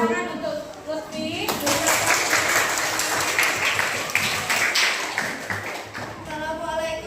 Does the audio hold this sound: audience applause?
yes